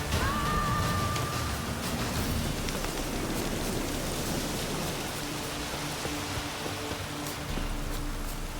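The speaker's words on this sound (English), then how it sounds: "If it don't stop raining, my arse will rot off." Rain in the video game Witcher 3: Wild Hunt, a loud continuous wash of falling water on surfaces, broadband and unbroken, with faint low tones underneath.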